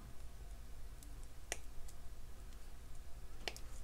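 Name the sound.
snipping jewelry chain links with cutters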